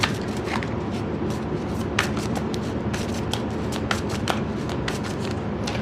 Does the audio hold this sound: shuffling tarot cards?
yes